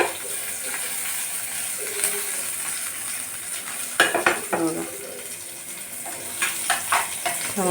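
Chopped onions fry in a hot pan for hotel-style hakka noodles. A steady sizzle runs throughout, with a spoon scraping and clinking against the pan as they are stirred. The sound is close and continuous, with no speech.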